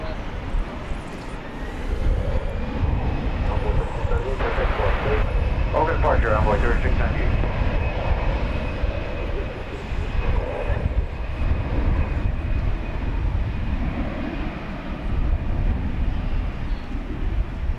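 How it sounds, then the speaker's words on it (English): An American Airlines wide-body jet readies for takeoff at DFW Airport, a continuous low engine rumble and hiss spread across the stretch, with radio-like chatter and a voice talking over it at times. "Got an American Airlines wide body getting ready to take off."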